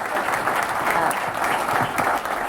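Sustained applause fills a room at a winter evening fundraising soirée, as an audience claps steadily and loudly throughout, a dense even wash of many hands with no pause.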